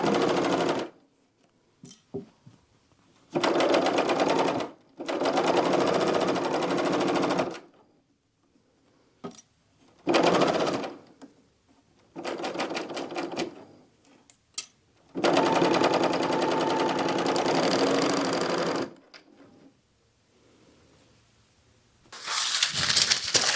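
A sewing machine runs in several bursts of steady stitching along the outer edge of fabric for a drawstring reticule bag, each burst separated by short pauses, loud and close.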